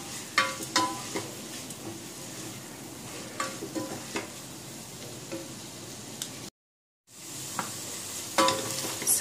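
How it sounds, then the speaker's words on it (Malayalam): Onions and half a cup of coriander leaves sautéing in a pan for chana biryani, a continuous close sizzle broken by repeated clicking spatula stirs, with a short silent gap partway through. "മല്ലിയില 1/2 കപ്പ് എല്ലാം കൂടെ നല്ലപോലെ വഴറ്റണം"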